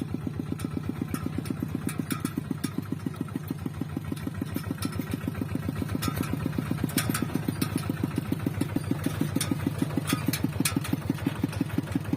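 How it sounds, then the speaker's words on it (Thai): A Thai homemade multipurpose tractor engine chugs steadily at close range, a fast even thumping idle with rattling clatter on top and no voices. "รถไถของช่างเอิงหรือว่าช่างพลมารับจ็อบอะไร"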